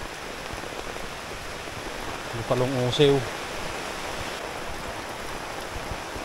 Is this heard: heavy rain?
yes